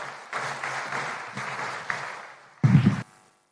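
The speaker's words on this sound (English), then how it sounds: "help me to usher in, with clapping, the President of the Republic of Kenya, Dr. William Ruto." Audience applause welcoming Kenya's President William Ruto at a KICC event, a sustained broad wash of clapping that swells at the end into a louder, closer burst before cutting off.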